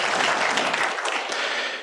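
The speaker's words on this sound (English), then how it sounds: "let's give him a round of applause" Audience in a city council chamber breaks into a dense burst of applause, a full, continuous patter of many hands that holds steady and then starts to ease.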